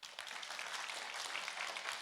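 A steady wash of church audience applause, many hands clapping at once, heard from a slight distance for the whole stretch.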